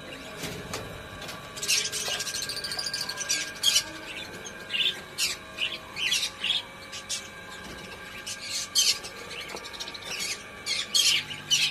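Budgerigars in a bird room giving sharp squawks and chirps in repeated bursts, fairly close, over a low background hum.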